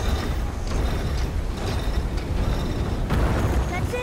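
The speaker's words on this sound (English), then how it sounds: "Well, I can open the door." A door mechanism grinding open in God of War at the Lake of Nine, a steady loud mechanical rumble with creaks and clanks, faint voices underneath.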